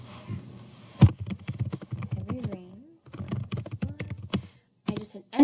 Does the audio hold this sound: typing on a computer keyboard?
yes